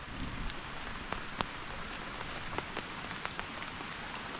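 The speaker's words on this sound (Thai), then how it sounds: "เช้านี้ก็มีฝนตก" Morning rain falling steadily at a forest camp during a patrol, a soft, even patter with scattered sharper drops tapping nearby, fairly quiet and unbroken, with no voices.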